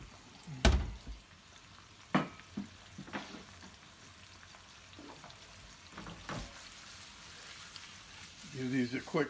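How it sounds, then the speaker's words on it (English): Brussels sprouts sauteing in hot oil in a pan give a quiet background sizzle, broken by several sharp clatters and tossing scrapes, with a brief burst of louder frying near the end. "a little oil, a little salt, quick crack of pepper, and we'll just saute that hot."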